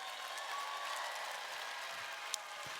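Audience applause at a large international business convention, a dense, steady wash of clapping from a big crowd that stays even and sustained throughout, with no talking over it.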